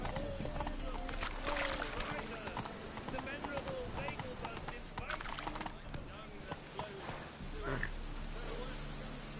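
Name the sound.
horse Roach galloping, from video game The Witcher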